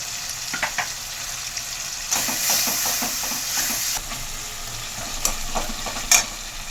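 Cumin and green chilli paste sizzles in a pan of melted tomato for a mixed veg paneer dish, a steady frying hiss broken by repeated scraping stirs and a few sharp clacks of the spoon.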